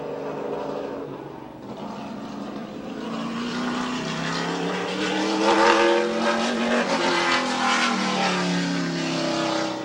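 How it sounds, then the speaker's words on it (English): A race car rumbles around Midvale Speedway on a slow victory lap, its engine droning steadily with a gradual rise in pitch as it passes at moderate distance. "Doing the Polish victory lap. Salute the fans at Midvale Speedway, Alan Troicki style."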